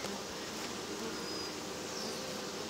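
Honey bees buzz inside an open beehive being split, a dense, steady hum that is close and even throughout, with no voices.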